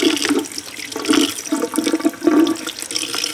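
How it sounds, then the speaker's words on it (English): Shrimp being rinsed under a running kitchen tap, a loud continuous splashing stream of water with uneven gurgling bursts as the shrimp are moved about, close by and with no talk. "We are going to give these shrimps a nice little rinse."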